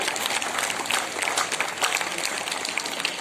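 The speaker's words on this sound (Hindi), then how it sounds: "तालियां जोरदार सी होनी चाहिए।" Brief burst of dense audience clapping at a school Women's Day celebration, fairly loud and steady throughout the short stretch.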